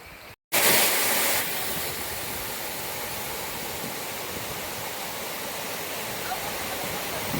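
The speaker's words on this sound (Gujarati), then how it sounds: "મસ્ત મજાનો ધોધ પડી રહ્યો છે અહીંયા પાણીનો" Rainwater from a recent downpour spilling over a small waterfall beside a river, a steady broadband rush of falling water close by, briefly louder near the start and then holding an even roar.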